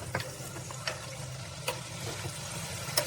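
Chicken dak bungalow masala is stirred in a pan, with soft repeated scraping strokes over a low sizzle of frying, close and fairly quiet.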